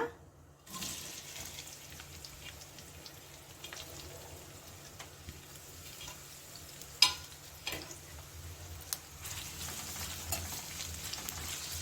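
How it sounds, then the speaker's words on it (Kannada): Sliced onions fry in a pan on the stove, giving a steady, moderately quiet sizzle with occasional clinks from stirring. "ಈಗ ಈ ಈರುಳ್ಳಿನ ಬಾಣಲಿಗೆ ಹಾಕೊಂಡು ಚೆನ್ನಾಗಿ ಹುರ್ಕೊಳ್ಳೋಣ"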